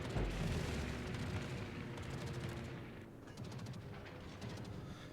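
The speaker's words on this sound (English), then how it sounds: "So we're going to eat another torpedo." A torpedo strikes the battleship Wyoming in World of Warships, a deep, rumbling blast with crackling debris that slowly dies away, heavy but somewhat muffled and alone.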